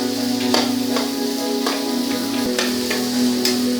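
Beef and onions sizzle steadily in a pan for a Kerala-style beef fry, with a spatula scraping and stirring in regular strokes, close and fairly loud, with a constant hum beneath.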